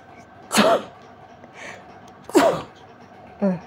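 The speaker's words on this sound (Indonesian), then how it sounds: "Sorry ya, mari bersin." Three close, loud sneezes, each a sharp burst with a short voiced tail, spaced about two seconds apart, with a softer breath after the last one and no talk.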